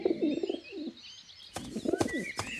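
Cartoon pigeons coo in soft, throaty warbles, first a steady run of low coos, then after a pause more cooing mixed with brief chirps and fluttery accents, close and clear with no talk.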